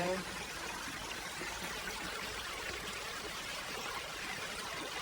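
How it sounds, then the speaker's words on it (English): A small waterfall in a wildflower preserve splashes in a continuous, even rush of broadband water noise, steady and fairly close. "there's another little waterfall up there."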